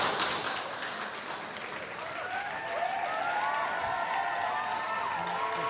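Loud audience applause at an Odia comedy show, a continuous wash of clapping from a large crowd heard at a distance, steady throughout with faint voices and tonal sound threading underneath.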